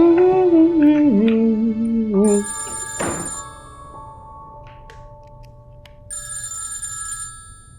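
A telephone rings with an incoming call in a Pakistani drama scene, its electronic ringtone tones repeating loudly near the start and again toward the end, with a thunk in between and quiet room sound.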